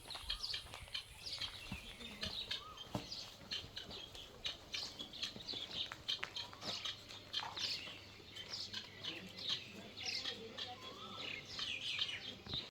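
Birds chirp and tweet repeatedly around a village on the road to Haripur, bright scattered calls over a quiet background with faint rustling and no talk.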